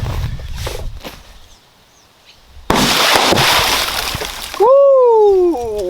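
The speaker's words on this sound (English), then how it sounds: "I'm gonna do first round into the watermelon, second round into the gallon of water really fast" Glock pistol rounds fired underwater into a watermelon and a gallon jug of water: a sharp burst of splashing and sloshing spray in the middle, other noise before it, then a whooping voice at the end.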